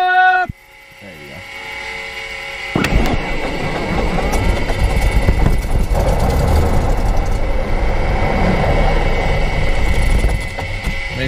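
Light aircraft engine starting and throttling up before a night flight, a sudden loud rise into a steady droning roar that holds close and continuous, with a voice speaking briefly at the start.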